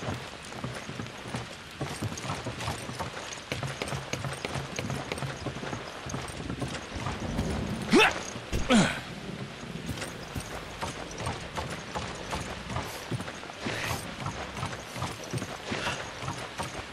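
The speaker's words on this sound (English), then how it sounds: "Get on the raft, and I'll turn the crank" A raft crank being turned in Resident Evil 5: a steady, rhythmic mechanical clacking and ratcheting that continues throughout, with a couple of louder knocks partway through.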